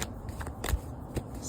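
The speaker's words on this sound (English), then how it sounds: "So I'm shuffling," Tarot cards are shuffled outdoors in strong wind. Several crisp riffling bursts come close and fairly loud, spaced irregularly over a steady windy hiss.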